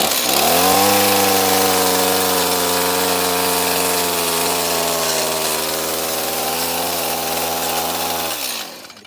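Chainsaw carving a four-foot wooden walleye fish: a loud, close engine roar held at high revs for about eight seconds with slight pitch wavering as it cuts, then rapidly winding down to stop.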